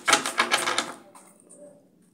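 A deck of tarot cards gets shuffled in a quick burst of crisp riffling clicks for about a second, then fades to faint rustling and handling.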